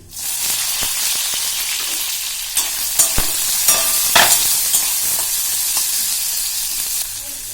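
Onion fries in oil with cumin and mustard seeds in a kadai for masala paneer bhaji, a dense, loud sizzle that starts abruptly, with scattered spatters and spatula scrapes throughout.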